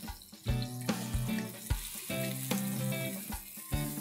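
Oil sizzles and crackles steadily as cumin seeds fry in a pan for a mixed vegetable curry tempering, with tuneful background music playing over the hiss.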